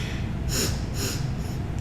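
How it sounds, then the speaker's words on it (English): Three quick, sharp sniffs drawn in through the nose, evenly spaced and close to the microphone, heard over a low steady background hum. "you can inhale 3 quick sniffs through the nose"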